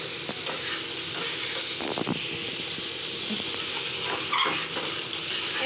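Eggplant, tomato and leafy greens frying in hot oil, a steady close sizzle and hiss with occasional stirring scrapes and clinks, no talking.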